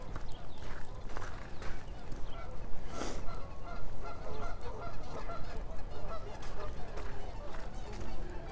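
Geese honk near a lake in Regina, repeated calls ringing out over a steady bed of outdoor noise and footsteps, moderately close and loud throughout.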